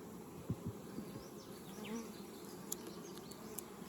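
Russian honey bees buzz softly and continuously around a yard of 33 hives, the faint drone steady with occasional individual bees passing nearer.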